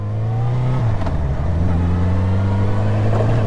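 A motorcycle accelerates hard during a riding test, its engine droning loud and close with a steady low growl that dips briefly as the pitch shifts, then climbs again.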